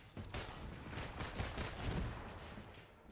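Sustained enemy gunfire and laser blasts in the Marvel's Avengers video game, a dense continuous barrage of rapid shots roaring steadily throughout, loud and close with no talk.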